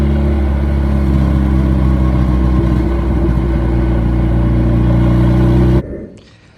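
A car with a home-resurfaced cylinder head roars through a hard second-gear pull, a loud, steady, close engine drone that holds for several seconds and then cuts off abruptly as the throttle closes, with no talking.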